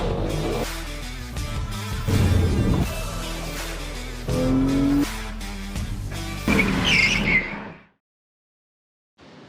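A BMW M3 E92 with a naturally aspirated 4-litre V8 drives hard, its engine revving loudly in surges while the tires squeal, before the sound cuts to near silence at the end.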